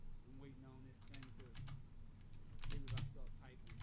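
Keys clatter on a computer keyboard during a live C++ coding session, with bursts of quick close taps in short clusters over a low background hum.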